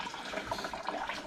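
Coolant splashes and trickles from the reservoir of a Mercedes-Benz W220 during a water pump and thermostat replacement, heard as a brief, faint, continuous watery rush.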